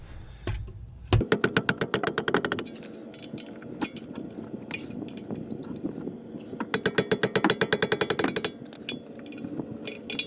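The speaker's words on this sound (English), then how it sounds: "I had to use a mallet with the wrench due to the torque of the bolts" A wrench and mallet work loose the stiff brake bracket bolts on a BMW rear brake, with rapid bursts of sharp metallic clicking and clanking close by and quieter knocks between the bursts. No one speaks.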